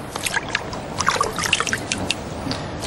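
Water splashes and trickles over fish-oil treated pigskin leather dipped to test its water resistance, a close run of small drips, pattering droplets and light sloshing.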